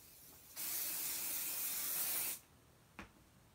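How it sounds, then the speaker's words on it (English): Spray adhesive hisses in one steady burst of nearly two seconds onto stabilizer held in an embroidery hoop, close and fairly loud, followed by a brief softer puff. "Then I would use a spray."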